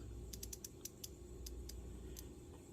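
An SK 1/4 inch ratchet gives off a quick run of faint, close mechanical clicks as it is turned backward against its drag, the ticks arriving unevenly over a low background hum.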